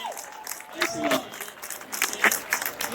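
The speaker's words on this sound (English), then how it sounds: "Give a round of applause, everybody." An audience at a question-and-answer session with two rock guitarists claps and cheers, a fairly faint, scattered applause with some voices mixed in.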